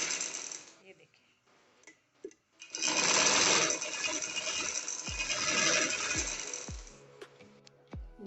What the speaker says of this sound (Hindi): अब हम ये शोल्डर की सिलाई मज़ीद पक्की करेंगे।